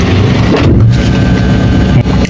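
A car engine idles steadily with a loud, dense rumble and hiss that holds even throughout, heard from close by with the car door open.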